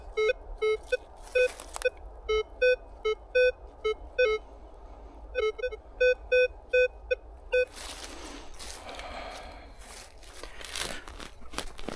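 A metal detector sounds faint, uncertain signal tones while searching in a forest, a string of short repeated electronic beeps in clusters, followed by crunching and rustling of digging in the ground.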